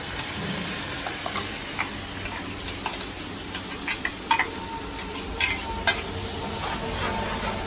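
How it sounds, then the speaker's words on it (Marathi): Ground masala frying with softened tomatoes in a pan, a continuous sizzle broken by scattered ticks and scrapes of a spoon stirring, close and steady. "आता आपल्याला वाटलेला मसाला टाकायचा आहे हे बघा मसाला टाकते वाटलेला"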